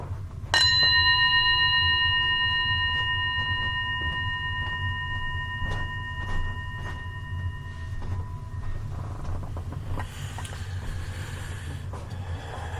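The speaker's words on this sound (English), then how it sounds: "So I'm going to ring the bell." A single bell is struck once and rings out with a clear, sustained tone that slowly decays over several seconds in a quiet room, fading under faint background noise.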